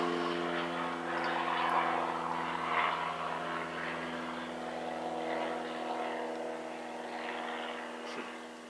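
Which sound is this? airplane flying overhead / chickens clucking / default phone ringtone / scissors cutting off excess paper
airplane flying overhead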